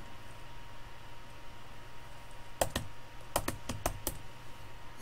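HTML code is typed on a computer keyboard, a short burst of about eight crisp, close key clicks in an uneven rhythm over a faint steady hum.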